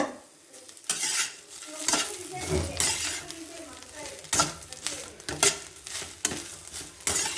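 Bitter gourd fries in a pan while being stirred, with repeated scraping strokes over a steady sizzle, close and fairly loud throughout.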